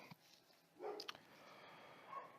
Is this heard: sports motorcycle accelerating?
no